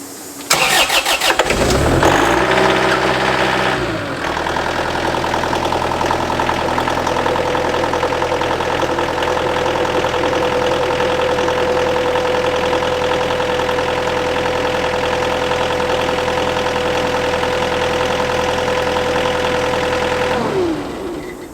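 Kubota SSV65 skid steer engine cranks and starts after an oil change, then settles into a steady, loud diesel idle that runs on without talk before shutting down near the end.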